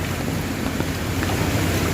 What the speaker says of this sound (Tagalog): Dahil sa tubig, baha, malakas.